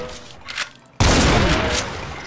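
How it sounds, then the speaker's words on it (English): A sniper shotgun fires in Project Brutality, a Doom mod, as one sudden loud blast followed by sustained roaring, crackling gunfire and rumble that stays dense to the end, after a brief stretch of quieter game noise. "Sniper shotgun!"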